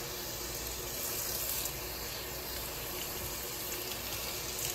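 Steady running water pours without a break while bleach is rinsed out of a delicate lace frontal wig, a constant broadband rush near and alone.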